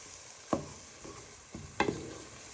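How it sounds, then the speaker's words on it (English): Prawns with shallot and garlic are stirred in a pot, a few distinct scrapes and clinks of the spoon close by over a soft, steady sizzle. "you're going to stir that in to give flavour to our prawns"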